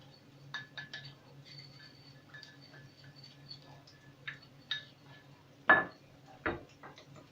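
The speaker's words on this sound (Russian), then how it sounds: "Вот так хорошенько помешаем, чтобы приправы дали свой аромат" A spoon clinks and taps against a pan while spices are stirred in, with scattered sharp metallic knocks, a couple of louder scrapes, and a low hum underneath, close and fairly quiet.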